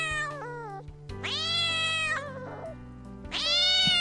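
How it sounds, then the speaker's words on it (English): A cat meows three times in a row, the first short and thin, the next two longer, louder and more drawn-out, heard clearly and close with no other sounds. "cat"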